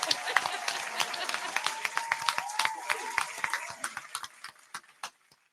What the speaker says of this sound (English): I'm gonna go ahead and clap for y'all.